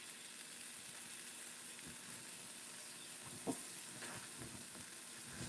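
Steady crackling sizzle of bacon frying in a pan, continuous and close, with a brief louder pop or clatter partway through.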